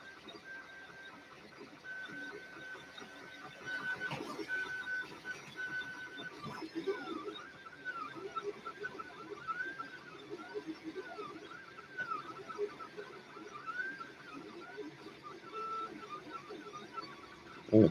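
An Adimlab 3D printer runs at 300% speed printing an owl, its stepper motors whining in quick rising and falling warbles, a busy continuous mechanical hum at moderate, fairly quiet level.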